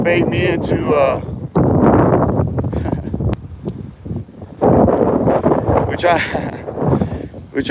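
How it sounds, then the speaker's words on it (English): Strong wind buffets the microphone in gusts, rumbling under a person talking outdoors on a windy day. "I get it, it's windy out here"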